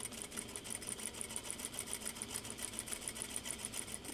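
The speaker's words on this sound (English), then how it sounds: "Do a little back stitching." A sewing machine back stitching, its needle clattering in a fast, even rhythm, close and continuous with no talk.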